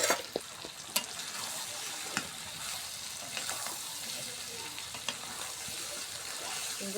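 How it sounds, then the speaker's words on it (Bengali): Meat and potatoes sizzle steadily in a pan as they are stir-fried. Scattered clacks of a spatula or spoon sound over a constant frying hiss at moderate volume. "সুন্দর করে আলু দিয়ে মাংসটা কষে নিচ্ছি।"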